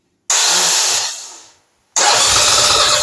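A Norton Commando 850 MKIII motorcycle is started in a cold basement. A loud, steady engine roar runs for about a second and fades away, then a second roar starts up just as loud after a short silence.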